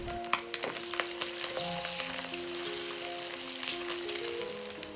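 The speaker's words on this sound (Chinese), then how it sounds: "翻炒一会儿" Pork belly is stir-fried in a wok with diced shiitake and fried shallots, a dense sizzle with quick scraping spatula strokes and clinks, close and moderately quiet, no speech.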